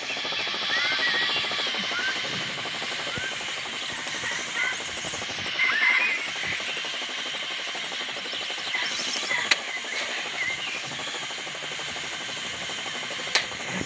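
A steady, whooshing military helicopter drone in a video game, with a broad rushing hiss, holding at an even level throughout with a couple of brief clicks near the end.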